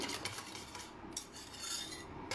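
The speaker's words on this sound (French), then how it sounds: "Je verse sur mes jaunes et le sucre. Je fouette." A whisk beats egg yolks and sugar with a freshly melted mixture in a bowl for petits pots de crème, giving a steady, continuous scraping and clinking against the bowl with no talk.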